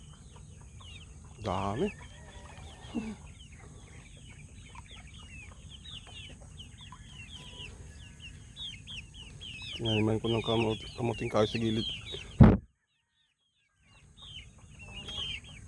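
Chickens cluck in a flock on a farm, with close bursts of clucking rising and falling and a voice talking over them at times.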